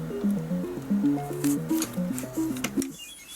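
Boulder Dash on the C64 Mini plays its chiptune music, a quick bouncing run of square-wave notes that stops abruptly, followed by a brief faint hiss.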